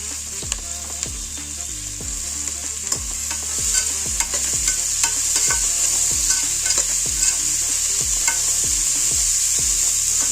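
Coriander and curry leaves sizzle steadily in hot oil while being cooked for a tomato rice dish, with regular scraping strokes of a spoon or spatula stirring the pan every second or so.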